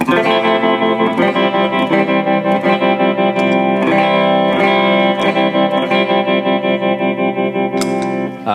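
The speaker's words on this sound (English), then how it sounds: "Got a tremolo on here as well." Sustained electric guitar chords with a wobbling, pulsing volume effect, loud and heavily processed with shimmering modulation.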